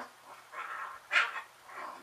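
Dog at home gives a few short, high yips and whiny barks, fairly close, with a brief louder bark near the middle and softer whimpering sounds around it.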